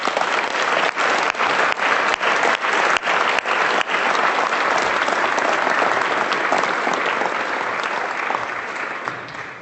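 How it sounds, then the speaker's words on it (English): An audience at an Ontario economic development luncheon gives a dense, sustained round of applause for Minister Brad Duguid, loud and steady at first, then gradually tapering off toward the end. "please join me in a round of applause"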